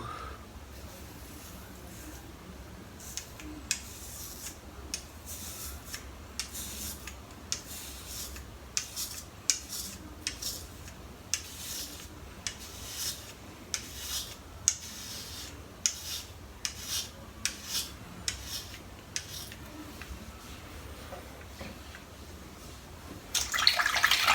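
A Headblade razor shaves a head over Headslick, making repeated short, close scraping strokes in a steady rhythm, quiet overall, with a louder rustle near the end.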